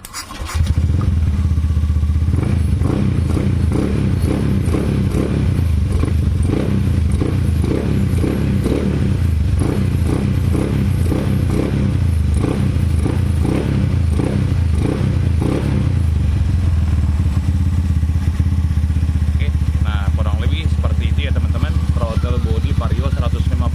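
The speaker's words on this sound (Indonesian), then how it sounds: "selanjutnya kita akan coba tes hidupkan dengan throttle body Vario 150 di Scoopy bore up 130. Oke, ini kita coba hidupkan." A Honda Scoopy scooter with a 130cc bore-up and a Vario 150 throttle body starts and then runs, a loud, close, uneven putter and rattle that holds throughout, with a voice speaking over it.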